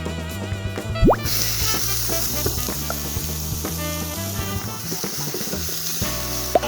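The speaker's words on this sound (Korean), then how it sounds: "앞뒤 노릇하게 이렇게 구워줄게요." Bread for radish toast fries in a pan with a little olive oil, giving a steady close sizzle with occasional crackles and light clinks of a utensil against the pan.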